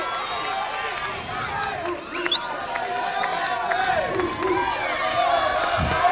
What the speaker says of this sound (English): Some of the Gator fans exhorting their team on